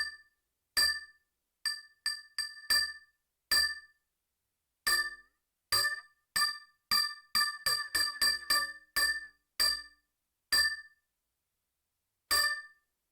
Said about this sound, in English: That makes it sound like more of like a bell.